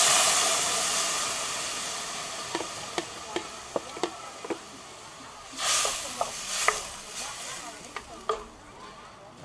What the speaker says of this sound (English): Before the sugar caramelizes too much, give it a quick stir